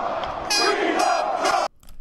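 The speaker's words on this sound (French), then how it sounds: "On va aller écouter en Angleterre une foule qui crie son engouement pour Donald Trump." Crowd in England chanting loudly in unison for Donald Trump, a sustained roar of voices in repeated rhythmic bursts that cut off abruptly near the end.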